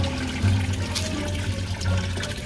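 Water tumbles steadily from a backyard pond waterfall, a close, continuous splashing flow with a low burbling undertone and no talking.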